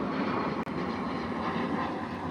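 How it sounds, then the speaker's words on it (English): Airplanes fly overhead a few miles from DFW airport, a loud continuous broadband engine roar filling the whole stretch with no talk. "There goes the airplanes."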